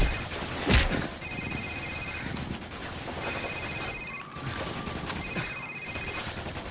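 Cell phone ringing in the video game Call of Duty Modern Warfare, a repeating electronic trill heard in several bursts over gunfire, rumble and battle noise.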